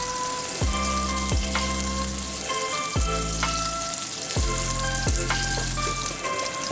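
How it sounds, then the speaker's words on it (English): Green onion segments stir-frying in a pan while cooking beef tendon, a loud dense crackling sizzle throughout, with repeated ringing scrapes of a spatula against the metal at intervals. "Stir fry the green onion segment until they are light brown color."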